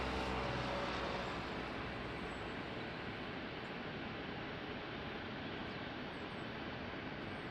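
A fixed-wing aircraft taking off from runway 20 at Lisbon Airport, a faint, distant broadband engine roar that holds steady throughout.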